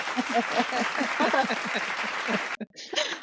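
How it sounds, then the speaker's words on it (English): Brief clapping from a small audience welcoming a performer, mixed with people talking over it, ending abruptly with a short clipped burst after a cut. "Got to give you a clap."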